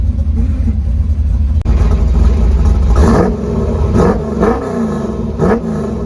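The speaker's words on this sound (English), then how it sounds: "Now that the car runs" A 1966 Ford Mustang V8 with a 4-speed, just brought back to running, roars loud and close, first a steady drone, then a series of sharp blips of the throttle in rough rhythm.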